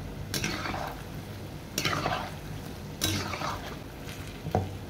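Palm fritters (taler bora) frying in oil over medium heat, a soft continuous sizzle broken by three scraping stirs of a utensil against the pan and a final light clink. No one speaks.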